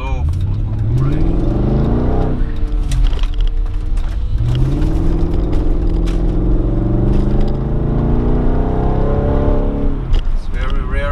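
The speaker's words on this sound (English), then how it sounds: "The sound of this car is so fucking great." Audi A6 Allroad 4.2 C5 with a V8 engine, driving and revving through rising and falling gear pulls, loud and steady throughout, with someone talking over the engine for most of the stretch.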